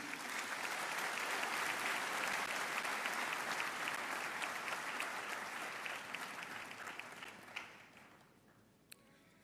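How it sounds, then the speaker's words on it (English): Audience applause fills the hall at a university vice-chancellor investiture, a dense sustained clapping that gradually thins and fades out toward the end. "Shall we give a resounding applause to our past leaders?"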